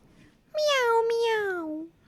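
A voice imitates a cat's meow, giving one long, clear, drawn-out call with a rising start and a falling tail. It is close and fairly loud, with no other sound behind it.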